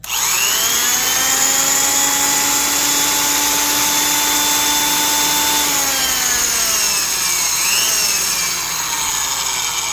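A Black & Decker Super Duty 5/16-inch D-handle electric drill motor whines smoothly and continuously at high pitch, loud and close, with a slight pitch dip near the end.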